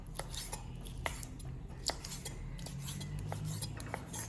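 Quiet, irregular knife taps sound against a cutting board while slicing pork sausage, scattered across a low background hum.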